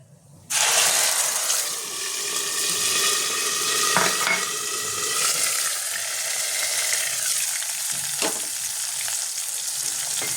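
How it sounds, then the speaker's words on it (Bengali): Whole dried red chillies and cumin seeds sizzle and crackle in hot oil for a Bengali potato curry tempering, a loud steady frying hiss throughout with no talk. "গরম হয়ে গেছে এবার ফোড়নটা দিয়ে দেবো দিয়ে দিলাম শুকনো লঙ্কাটা গোটা জিরেটা"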